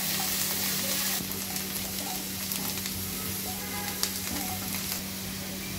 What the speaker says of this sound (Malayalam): ഗോൾഡൻ കളർ ആവുന്നത് വരെ നമുക്ക് ഫ്രൈ ചെയ്യാം.